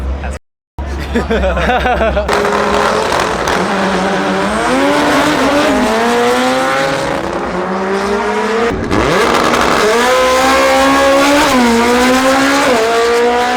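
A Honda car launches hard at a crowded car meet, its engine revving and rising in pitch through the gears with loud, sustained roar, while spectators chatter and talk nearby throughout.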